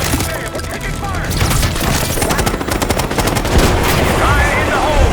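Dense gunfire in a Call of Duty: Black Ops 6 cutscene, rapid automatic bursts and scattered shots crackling continuously at close range over a busy combat mix, with some shouting mixed in.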